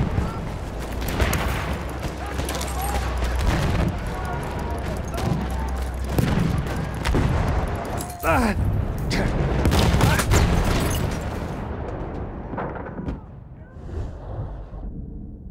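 A Battlefield 1 battle with gunfire and a grenade explosion: continuous volleys and booms roll on under shouted voices, with a heavy blast near the middle before the din thins out.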